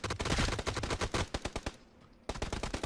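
Rapid, loud AUG assault rifle fire in PUBG, dense strings of sharp close shots with a brief pause before the bursts resume.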